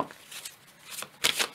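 A deck of Sibylle des salons fortune-telling cards is shuffled up close, with brief papery riffles and flicks in short bursts separated by quiet gaps.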